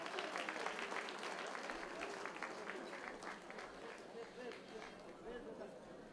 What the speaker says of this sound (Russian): Под ваши аплодисменты, уважаемые друзья!